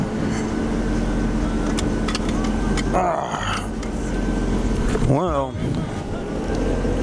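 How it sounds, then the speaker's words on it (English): A high-mileage Mercedes-Benz S550 engine idles in a steady, low hum, with a person speaking briefly over it midway. "The engine started kind of idling low and then picking back up."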